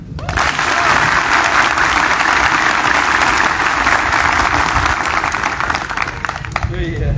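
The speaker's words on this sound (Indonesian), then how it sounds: "Ya, tepuk tangan." A large audience at a closing ceremony for newly graduated junior non-commissioned officers breaks into long, loud, continuous applause, a dense roar of clapping that holds steady for several seconds before thinning at the end, with some voices mixed in.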